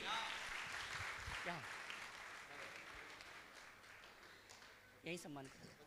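Applause rises from an audience at a Jain religious gathering honouring guests, a continuous clapping wash at a distance under a voice speaking over a sound system.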